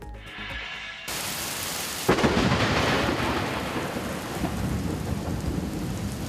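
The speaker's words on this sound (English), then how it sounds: "that's some thunder booming over Glendale and lighting up the sky" Thunder booms through a storm over Glendale with steady rain, one sharp crack then a long loud rumble that rolls on under the downpour.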